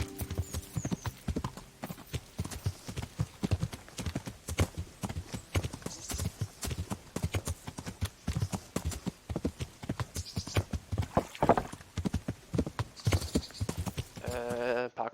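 Horse hooves clip-clop steadily as a rider travels on horseback in Kingdom Come: Deliverance, a close, rhythmic stream of hoofbeats with a brief whinny near the end.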